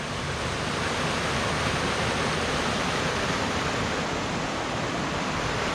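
Small waterfall on a little creek in Duluth, Minnesota, a steady, broad rushing wash of falling water heard nearby, unbroken and even throughout with no voices.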